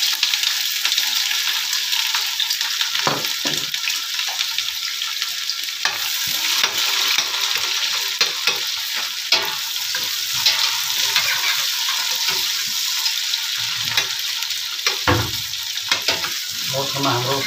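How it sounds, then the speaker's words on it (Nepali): Sliced onions fry in heated oil while making chow mein, a loud continuous sizzle with occasional stirring scrapes throughout. "हाम्रो यहाँ तेल तातिसकेको छ र हामीले प्याजलाई राख्छौँ।"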